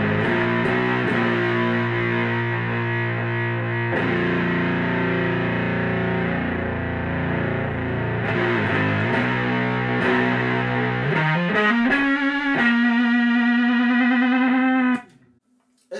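Electric guitar played through a RattyOctaves Life Pedal octave-style fuzz with gain at maximum, a thick saturated sustained chord, then sliding notes climbing into a bright held octave tone that cuts off abruptly near the end.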